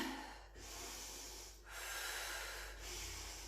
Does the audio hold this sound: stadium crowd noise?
no